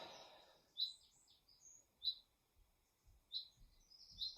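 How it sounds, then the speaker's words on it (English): Birds chirping outdoors, heard from inside a quiet home: several short, high, bright tweets come in separate bursts with gaps of near silence between them, faint and distant, with no talking over them. "I can hear the birds outside."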